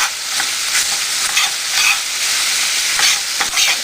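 Spaghetti and garlic stirred in a hot pan, a loud continuous sizzle broken by repeated scraping strokes of the utensil, with no voice.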